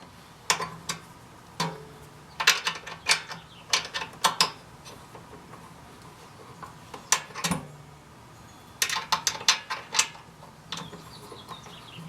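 M6 socket-head bolts on a BMW R1200RTW bracket being tightened with a 5mm Allen wrench, heard as close, sharp metallic clicks and ticks in irregular clusters with quiet gaps between them.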